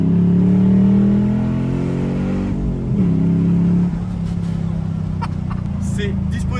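A Chevrolet Camaro V8 with a manual gearbox revs loudly from inside the car, its deep engine note rising and then dropping back to a steadier hum, while people talk over it.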